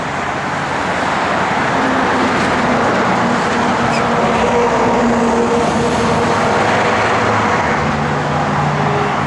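A Plymouth Duster with a sport hood runs steadily, its engine giving a loud, continuous broadband rumble with no revving and no one talking.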